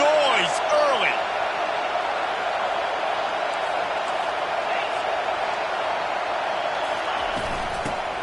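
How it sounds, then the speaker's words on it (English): A college football stadium crowd roars in a game against Texas. A dense, loud, steady wall of cheering sounds from a distance, with occasional whistle-like tones near the start. "This crowd bringing the energy and noise early."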